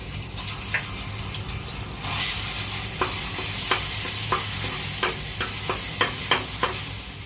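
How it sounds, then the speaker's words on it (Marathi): Ginger garlic paste frying in oil for sukka chicken, a continuous sizzle with intermittent sharp spatula scrapes and stirring clicks that grow more frequent over seven seconds. "आलं लसूण पेस्ट तेलामध्ये फ्राय करून झालेली आहे"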